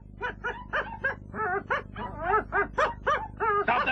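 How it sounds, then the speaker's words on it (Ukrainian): A cartoon dog in an animated Transformers episode yips and whines in a rapid, rhythmic string of short, high barks, close and fairly loud over a low background hum. "Перестань гавкати."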